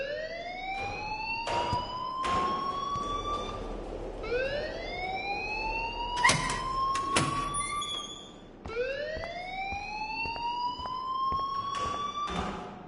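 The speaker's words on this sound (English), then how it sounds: "please turn off that alarm since that's your job" A wailing alarm siren from the video game Life is Strange rises and falls in long sweeping cycles, loud and steady throughout with no talking over it.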